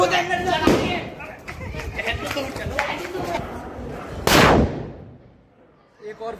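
Diwali firecrackers burst in a sharp series of loud cracks, one especially heavy blast near the end followed by a quieter pop, with people talking throughout.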